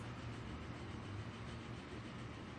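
A train rolls steadily through the railway simulation game Transport Fever, a continuous rumbling mechanical drone with a faint clickety-clack, heard alone without talk.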